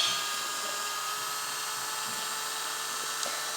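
A Dremel rotary tool runs steadily at close range, a continuous high-pitched whir held for several seconds while grinding down a puppy's nails, with no talking.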